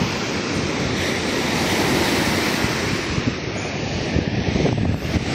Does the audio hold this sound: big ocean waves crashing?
yes